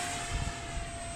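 A 3D printed F22 RC plane flat spinning in flight: a brief, faint, steady high-pitched motor and propeller whine with a soft low rumble beneath, with no talking.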